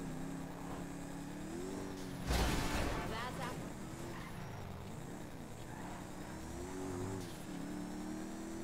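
A car in the GTA 5 video game drives with a steady engine hum, then a loud burst and a rough rush of sound partway through, with the engine note rising and falling afterward.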